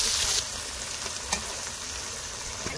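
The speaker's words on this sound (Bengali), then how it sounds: "পেঁপেগুলো ভাজা হয়ে গেছে, তুলে রাখছে এখন।" Papaya pieces for a country rooster curry frying in a pan, a steady close sizzle with faint scraping and small crackles throughout.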